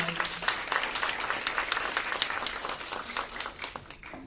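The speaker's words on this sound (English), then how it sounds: "Let's give her one more round of applause." An audience claps for a speaker at an entrepreneurs' talk, a moderately loud burst of applause that thins out and fades toward the end.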